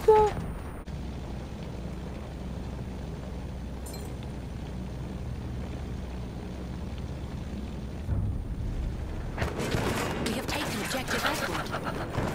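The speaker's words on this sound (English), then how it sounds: "Ah, dude, I'm getting shot at. Who's shooting me?" Gunfire in the Battlefield 1 video game, a burst of shots at the start and then scattered quieter cracks and a rising burst of rapid fire near the end, over a low rumbling game backdrop.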